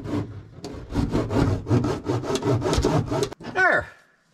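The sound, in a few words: pressing sound deadening mat onto car metal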